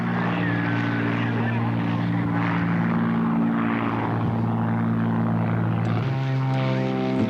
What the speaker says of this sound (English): Robert A. Bob Hoover, this time flying the Shrike Commander